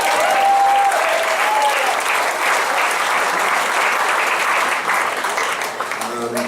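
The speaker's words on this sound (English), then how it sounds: "let's hear it for Tony" Loud, dense audience applause fills a live concert at City Winery in New York, sustained steadily for several seconds with a few faint tones near the start and a slight easing toward the end.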